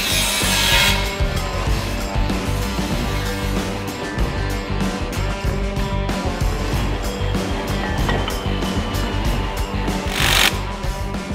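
The brake dust cover on a Toyota Tacoma is trimmed with a cutting tool, giving a continuous loud, close, harsh rasping and grinding with a steady rhythm and no talk over it.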